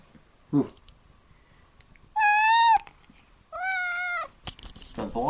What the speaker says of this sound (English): The vlogging cat.